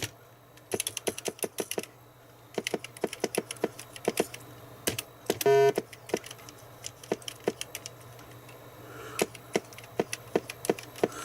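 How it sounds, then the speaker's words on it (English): Keys on a ZX Spectrum 128k +2 keyboard are pressed one after another in quick, irregular bursts of sharp clicks and clacks, fairly close, with a brief louder tone midway and no speech. "The keyboard works."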